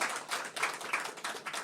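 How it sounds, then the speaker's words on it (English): An audience at a COP28 session, clapping in a short burst of dense, quick claps, fairly faint and heard briefly with no voices. "I think another big round of applause."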